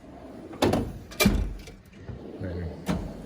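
A Snap-on TUV toolbox drawer pulled open, with several loud metallic clunks and sliding rattles spaced across a few seconds, close and fairly sharp.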